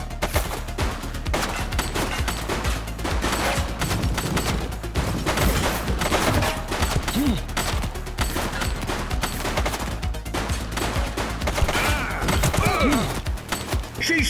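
Rapid automatic gunfire in a shooting video game, a dense continuous fusillade of loud bursts rattling on for many seconds, with brief voice lines mixed in beneath the shots.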